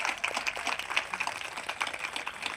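An audience at a community gathering in Raipur claps to welcome a speaker, a brief patter of many hands that sounds moderately distant and fairly soft, with no voices over it.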